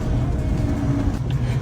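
A Yugo Florida car labours up a steep hill, its engine a steady loud low drone heard close from inside, with little talk.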